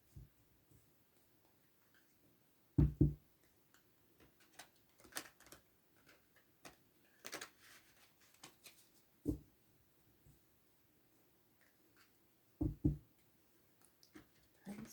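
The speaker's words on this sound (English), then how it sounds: "Let's get our cards shuffled." A deck of tarot cards is shuffled in scattered bursts of soft riffling and clicking, with three louder slaps of the cards, all close and quiet with no talking.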